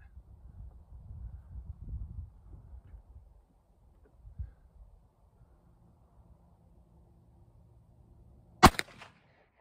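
A Virginian Dragoon revolver fired with a heavy load: after a long stretch of faint low rumble and quiet, one sharp, loud shot cracks near the end, followed by a brief echo.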